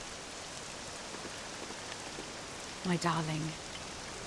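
Steady, soft rain falls in the video game Dragon Quest VII Reimagined, a continuous hiss of drops behind a brief spoken line near the end.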